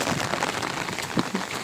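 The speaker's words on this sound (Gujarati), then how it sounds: "બહુ વરસાદ છે, પવન પણ બહુ છે." Heavy rain beats down in strong wind in Bhavnagar, a dense, constant close patter that fills the whole short stretch without talk.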